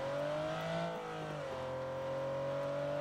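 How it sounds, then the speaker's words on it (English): A loud car engine in a video game, droning steadily with a pitch that dips and shifts as it revs, heard alone without talk. "Oh my goodness, this car is so loud."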